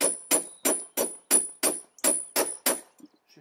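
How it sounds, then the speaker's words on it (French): A threaded rod is hammered against the flange of a round beehive mould: nine sharp, evenly spaced metallic knocks ring close and loud, then a few softer taps trail off. "On prend la tige filetée qui va venir taper sur une des deux flasques."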